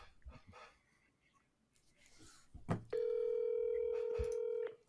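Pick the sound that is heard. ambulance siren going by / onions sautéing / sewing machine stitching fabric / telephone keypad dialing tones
telephone keypad dialing tones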